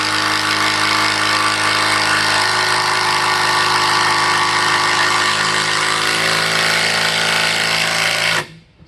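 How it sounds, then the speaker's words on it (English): A power driver running screws into the wooden rails of a sawhorse, a loud, steady buzzing drive that holds for about eight seconds close up and then cuts off sharply. "I'm going to send the screws in deeply"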